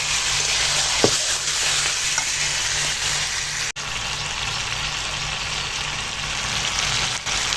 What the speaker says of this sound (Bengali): দেখো এখনো মাংস কষানো চলছে